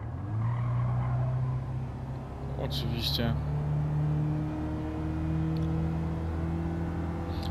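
A Japanese compact hybrid car in Gran Turismo 7 drones and whirs steadily as it accelerates, with rising engine tones under someone talking.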